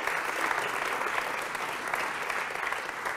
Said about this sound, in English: Could I please get a huge round of applause for these guys?